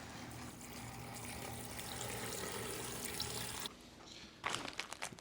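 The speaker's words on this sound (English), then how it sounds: "And then all I have to do is add enough water to reach the fill line." Water pours steadily into a pot for homemade vegetable stock, a continuous rushing flow that stops briefly, then resumes with a few splashy bursts near the end.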